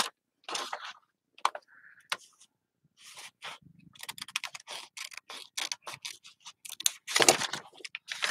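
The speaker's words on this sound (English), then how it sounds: "But I want my Tim Holtz scissors for the top." Tim Holtz scissors cut paper for a DIY map envelope craft, making crisp, close snips in scattered short bursts with quiet gaps between them and no talking.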